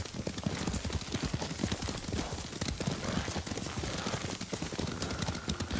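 Horse hooves in the video game Ghost of Tsushima: a continuous, busy clatter of galloping hoofbeats over game ambience, loud and steady throughout with no clear speech.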